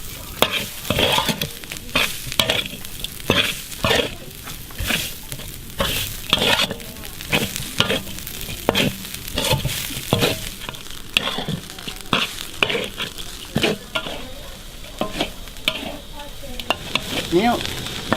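Quail stir-frying with chilies in a wok at a Thai village cookout, a steady loud sizzle broken by repeated sharp scraping stirs throughout, with no talking.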